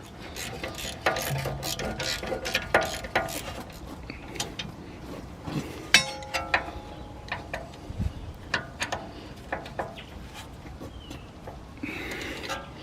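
A ratchet tightens the two 16mm bolts on a BMW brake caliper bracket. It gives bursts of quick clicking pawl ticks with short pauses and a few metallic knocks, heard close with no talking.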